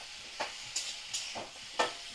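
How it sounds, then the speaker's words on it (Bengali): Pumpkin, potato and malabar spinach frying in a pan, quiet sizzling broken by four or five short scraping stirs at irregular intervals, no talk. "ভালো করে দেখো ভাজা করে নিচ্ছি কুমড়ো আর আলু আর পুঁই শাক"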